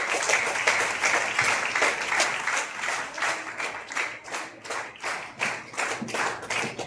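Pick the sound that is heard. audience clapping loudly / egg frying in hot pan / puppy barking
audience clapping loudly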